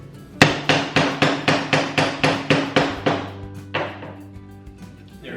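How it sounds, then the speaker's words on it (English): Nails driven into a wooden DIY birdhouse with a hammer: about ten sharp, evenly spaced strikes ring out close and loud, then a pause and a single last blow. "She loves it when you hammer down things."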